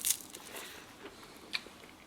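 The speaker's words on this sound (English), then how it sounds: "The crunch just came out just right." A baked palmier pastry snapped apart, giving a sharp, close crisp crunch at the start and a second smaller crackle a moment later, against quiet room tone.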